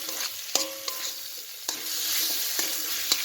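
Spice paste of turmeric and chili frying in a pan, a steady close sizzle with sharp stirring scrapes and clinks every second or so, no voices.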